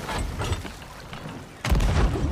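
A cannon fires in the Sea of Thieves pirate game, one heavy deep boom arriving partway through over a steady background rumble, close and loud, without voices.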